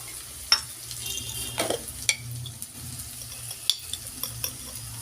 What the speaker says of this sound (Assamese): মই এইদৰে লৰাই ল'ম